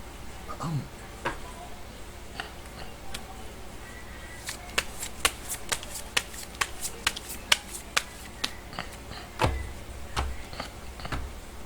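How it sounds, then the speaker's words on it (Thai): Tarot cards are shuffled by hand up close, giving a run of quick, crisp riffling snaps and flutters that come in uneven bursts over a soft room background. "เดี๋ยวจะมาเสี่ยงไพ่ ยิปซีดูให้เพิ่มเติมนะ"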